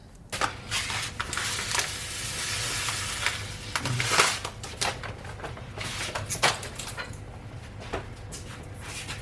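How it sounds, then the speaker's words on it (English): Quinoa goes into a hot pan of stir fry, giving a loud, steady sizzle broken by repeated sharp scrapes and clatters of stirring. "Okay, so now I'm gonna add the quinoa in."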